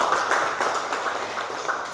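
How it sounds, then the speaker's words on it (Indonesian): Clapping at a teachers' workshop session on positive school culture, a brief, fairly soft wash of hand claps from a group in a room. "Boleh tepuk tangan"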